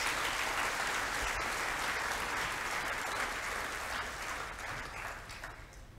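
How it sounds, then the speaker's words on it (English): Audience applause fills a school assembly hall, a dense, steady wash of many hands clapping for a homeroom class, holding strong throughout and easing slightly toward the end. "Could we give homeroom 7B a round of applause"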